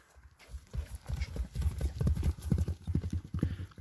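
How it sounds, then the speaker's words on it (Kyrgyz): A horse trots past with a quick, steady run of hoof clip-clops, close and fairly loud, the beats strong and regular through the whole stretch, with light background noise. "ат тапкылдап өтө жүгүрүшү дагы жакшы экен"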